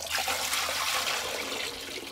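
Water is poured from a bucket into a toilet tank in one continuous, loud, close rush of splashing and gushing water lasting a couple of seconds, with no voices.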